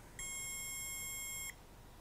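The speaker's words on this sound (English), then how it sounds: "Something's beeping" An anti-spy bug detector gives one sustained high electronic beep lasting just over a second, faint against quiet background hiss.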